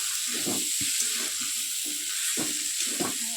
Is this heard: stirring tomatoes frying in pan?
yes